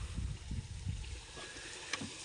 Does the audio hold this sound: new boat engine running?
yes